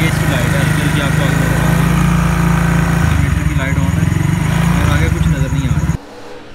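Motorcycle engine held at raised revs, a loud, close, steady drone with a rough low throb, fitted with a Devil Eye headlight, running continuously before dropping off sharply near the end.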